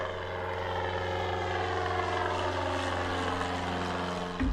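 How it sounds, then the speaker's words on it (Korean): A light propeller aircraft using the Taean airfield drones overhead near houses, its engine a steady, loud buzzing hum that holds for several seconds before cutting off abruptly. "소음의 원인으로 지적되는 경비행기는 인근 대학이 운영하는 태안 비행장에서 이착륙하고 있는데요"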